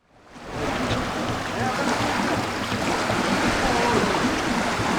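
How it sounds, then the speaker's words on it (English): Gentle Indian Ocean waves wash onto a white-sand beach at Nungwi, Zanzibar. The surf swells in within the first second, then holds as a loud, continuous wash with no voices. "As the gentle waves of the Indian Ocean kiss the powdery white sands"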